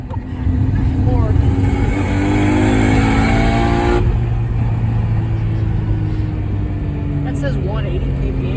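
A Nissan R32 GT-R engine revs hard under full throttle, a loud close rising howl heard from inside the car with a brief gear-change dip, while passengers talk over it.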